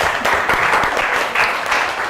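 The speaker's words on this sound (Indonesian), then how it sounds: "Tepuk tangan untuk kita semua." A classroom audience applauds, a dense burst of many hands clapping that carries steadily through the short clip with no talk over it.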